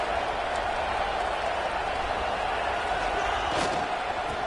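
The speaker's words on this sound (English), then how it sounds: "And this crowd coming to life here, trying to help the defense get a stop with the offense pinned back." A stadium crowd at a Memphis vs LSU college football game roars steadily throughout, a dense continuous wash of cheering and noise with a slight swell near the end.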